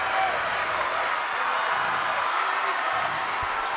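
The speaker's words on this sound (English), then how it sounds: "Crowd goes crazy." A loud, steady roar of a crowd cheering at a high school boys basketball district game in a gym, with an announcer talking over it.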